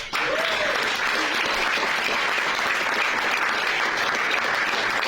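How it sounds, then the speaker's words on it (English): Strong, continuous applause from a luncheon audience at a political event, a thick and steady roar of many hands clapping close by without letup. "this is where you wildly applause for the sponsors"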